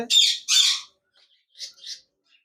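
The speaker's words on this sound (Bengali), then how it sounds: "এখানে দেখতে পাচ্ছেন একজোড়া বাজরিকার পাখি রয়েছে" A pair of red-eyed budgerigars, a lutino and a creamino, squawk up close: two loud harsh squawks, then a pause and two softer calls, with silence between.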